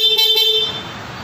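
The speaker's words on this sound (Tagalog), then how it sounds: "Passing horn." A stock horn on a Click 125/150 blares loudly and close for about half a second, then cuts off, leaving the hiss of a passing vehicle.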